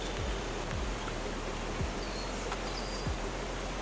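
Waterfall at Westquarter Glen in Falkirk, a constant broad rushing roar of falling water, steady and close, with a few soft low thumps and no voices.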